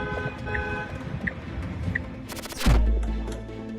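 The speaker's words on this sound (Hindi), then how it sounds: "वहां से गुजर रही एक कार ड्राइवर ने जोर से हॉर्न बजाकर भेड़िए को वहां से भगाया" A car horn blares on a forest road to scare off a wolf, a sudden loud blast cutting in late after quieter tonal beeps and background noise.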